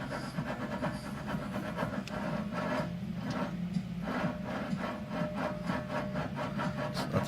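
A worn rear wheel bearing on a Nissan 350z spinning gritty, giving a continuous rough grinding rasp with faint rhythmic pulses as it turns, close up and without speech.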